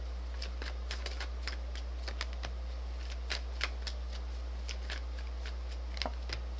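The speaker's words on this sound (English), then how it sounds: "So these are your oracle cards that I'm doing right now." Oracle cards are shuffled close by, with quick papery riffles and soft flicks in an irregular rhythm over a low steady hum.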